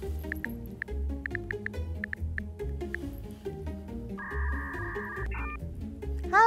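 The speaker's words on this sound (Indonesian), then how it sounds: "Sebelum ke Profesor Rena, aku telepon dulu deh." A string of short dialing beeps taps out a phone number, followed by a longer steady tone, all over quiet background music.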